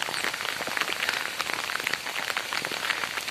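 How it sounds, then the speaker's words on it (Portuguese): Heavy rain pours down in a forest on a solo bushcraft hike, a dense, steady hiss of drops hitting leaves and ground, loud and continuous with no pauses and no voices. "E a chuva chegou com vontade."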